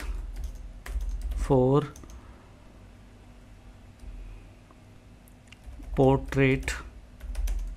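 Computer keyboard keys typed in short bursts while entering a question into ChatGPT, with someone talking between the clicks.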